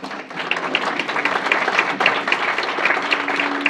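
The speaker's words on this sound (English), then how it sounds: "I'd just like to give them a round of applause" An audience at a Detroit-area public transit meeting claps together in a dense, steady round of applause, fairly loud and sustained throughout with no talking over it.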